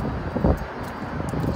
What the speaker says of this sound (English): So it's really cold and windy